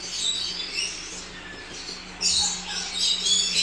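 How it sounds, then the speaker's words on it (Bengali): Birds in a zoo aviary at Netaji Subhas Island park call with high, sharp chirps and squawks, several overlapping bursts at moderate distance, growing busier toward the end. "মাঝে মাঝে শুনেই উঠছো কি সুন্দর সুন্দর সুন্দর পাখিগুলোর আওয়াজ"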